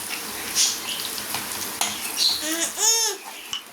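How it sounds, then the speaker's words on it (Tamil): Chicken chukka frying with Kashmiri chilli powder and spices in a pan, stirred with a utensil: continuous close sizzle with scraping and clinking strokes, no talking. "இந்த மாதிரி பரட்டி விட்டுட்டே இருங்க."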